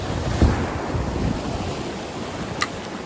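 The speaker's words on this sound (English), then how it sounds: "Sorry if there's a bit of wind noise. Got northwesterly wind coming in." Strong northwesterly wind buffets the microphone at the coast during lure fishing for bass, a steady rumbling roar with surf washing beneath and a few brief gusty thumps.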